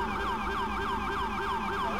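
Police car siren wailing in GTA V with the LSPDFR mod, a rapid repeating yelp that sweeps up and down steadily, loud and close throughout with no talk over it.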